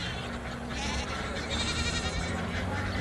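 Goats bleating on a farm, a busy chorus of overlapping wavering calls from several animals, fairly close and continuous, with faint human voices mixed in.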